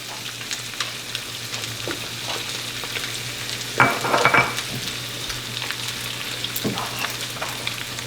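A sunny side up egg fries in a hot pan with seasoning salt, giving a steady close sizzle with a brief louder crackling burst in the middle and light stirring or scraping noises.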